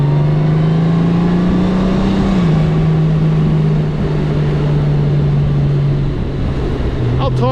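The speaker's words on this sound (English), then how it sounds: "motorcycle ASMR lovers listen to the sound of the bike for a bit." A motorcycle engine drones steadily in sport mode on PA 125, a loud, close, sustained hum that shifts pitch slightly as it holds speed, with wind rush around it.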